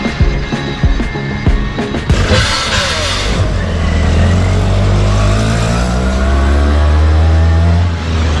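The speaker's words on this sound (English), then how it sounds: "warming up the rickshaw" An auto rickshaw engine idles and revs close by, with a few sharp knocks at the start before settling into a loud, steady, rumbling drone as it drives along a road toward Darjeeling.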